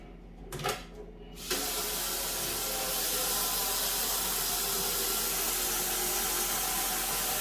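Water pours steadily into a cooking pot: a few brief clinks and splashes, then a loud, continuous rushing hiss that holds to the end.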